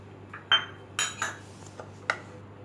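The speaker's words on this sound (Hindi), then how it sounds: "अब इन सबको अच्छे से मैश कर लेंगे।" Metal spoon clinks and scrapes against a bowl while paneer sandwich filling is mashed with salt and black pepper, with a few sharp taps over a low steady hum and no talking.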